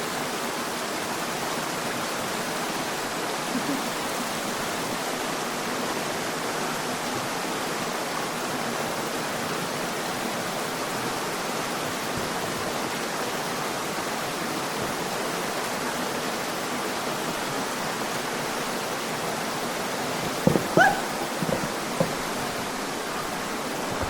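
Steady broadband rush of a stream flowing through Hunter Cave in Missouri, constant and enveloping, with a few brief splashes or knocks near the end and no talking.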